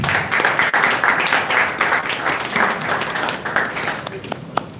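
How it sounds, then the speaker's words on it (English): An audience at a Lagos environment ministry assessment session claps for the ministry, a steady rhythmic patter of many hands close by, fading toward the end. "I think you should clap for the ministry."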